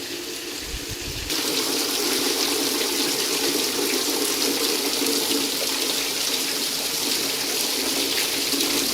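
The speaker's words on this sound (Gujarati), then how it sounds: "આજે રાતનો બહુ વરસાદ પડે છે।" Heavy rain falling at night, a loud, unbroken wash of pouring water that swells up after a brief quieter opening and then holds steady with no talking.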